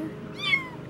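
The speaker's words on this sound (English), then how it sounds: "And we see the kitten there, and he's just waiting to go in." A kitten inside a trap gives a single short, rising meow, close and clear against faint background noise.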